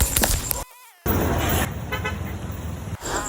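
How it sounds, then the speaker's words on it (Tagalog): A passing dump truck sounds its horn on a roadway, giving a sharp honk after a short silence, then a longer sustained blast over rumbling traffic noise, with voices briefly present. "Shout out diya sa driver sa niagi nga dump truck amping kanunay sa pagbaniho"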